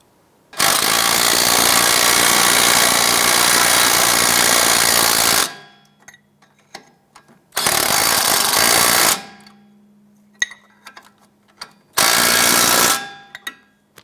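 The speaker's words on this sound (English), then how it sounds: "install the nuts on the strut bolts. And go ahead and snug those down" Loud bursts of a power impact tool driving nuts onto the strut bolts of a 2001-2007 Ford Escape: one long continuous run followed by two shorter ones, with small metallic clinks and handling noises between them.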